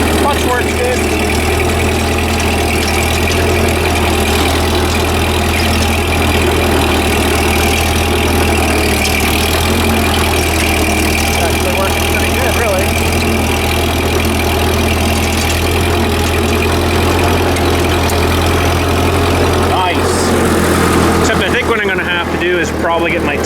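Ford 2N tractor engine running steadily while pulling a cultivator through manure-spread garden soil, a continuous low drone with a shift in tone near the end.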